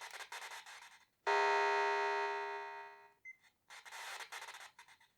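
A gong-like electronic chime from a 1980 Palitoy Action Man ROM the Space Knight toy rings once, loud and sustained for about two seconds before fading, between stretches of faint rubbing handling noise.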